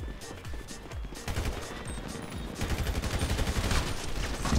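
Rapid bursts of gunfire in GTA V Online, sharp repeated shots in quick strings that grow denser and louder toward the end.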